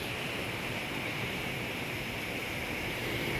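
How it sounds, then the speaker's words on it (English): Strong wind from Hurricane Milton roars as a loud, steady broadband rush, buffeting close to the microphone throughout with no breaks and no voices. "Look how windy it is."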